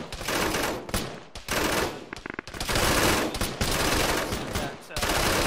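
Sustained automatic gunfire from a firefight in Arma 3 on a Takistan map, dense overlapping bursts of rifle and machine gun fire with brief gaps, loud and close, with faint voices mixed in.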